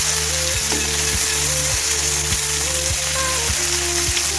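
Ruli fish fries in hot oil with a dense, loud, continuous sizzle and crackle, close up. A faint periodic tone repeats throughout, with no talking.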